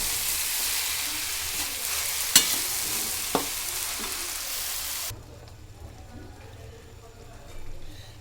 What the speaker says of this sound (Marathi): नंतर गोळ टाकणे आणि हलवून हलवून मंद गॅसवर छान होतो